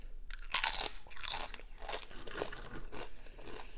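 Close, loud crunching bites into a burrito with queso, followed by several slower, moist chewing sounds, without talk.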